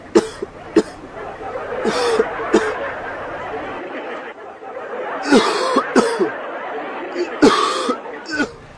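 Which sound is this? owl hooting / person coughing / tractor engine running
person coughing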